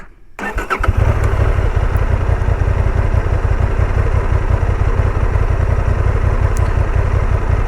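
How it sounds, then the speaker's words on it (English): A Honda XL750 Transalp motorcycle engine fires up and settles into a loud, steady, close rumble during off-road rear-brake turning practice, with a faint clatter running through it. "eventually maybe I'm gonna succeed turning the bike with my rear brake."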